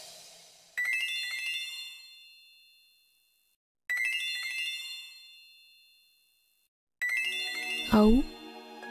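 A mobile phone ringtone for an incoming call plays three rising chime phrases close up, each fading before the next, and a voice cuts in over the final ring.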